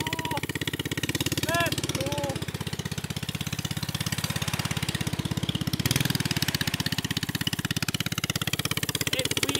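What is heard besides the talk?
go-kart engine running in reverse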